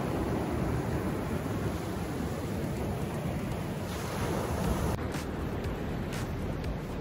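Sea water and waves wash up Kawhia beach in New Zealand, a steady broadband hiss of surf close by with some wind across the microphone, no talking.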